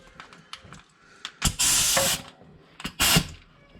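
Short bursts from a compressed-air hose in a garage while working on a 1975 Plymouth Duster: two loud hissing blasts, the first about half a second long, the second briefer, separated by quieter clicks and handling noise.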